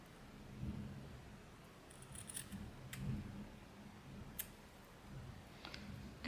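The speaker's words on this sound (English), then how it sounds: "These are my fabric scissors." Faint, intermittent snipping of fabric scissors cutting fabric and thread, soft crisp clicks spaced irregularly over a quiet background.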